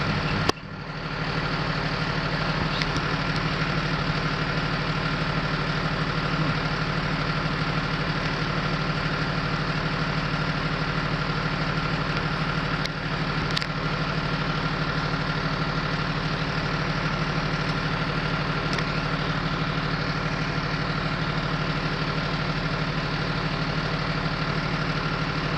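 A fire engine idles steadily at the scene of a house call, a continuous loud low diesel rumble with a broadband hum that holds throughout, with no speech over it.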